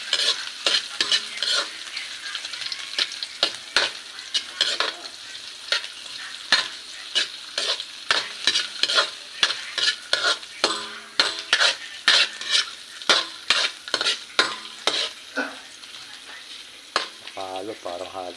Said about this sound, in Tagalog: Tapos mix natin ito.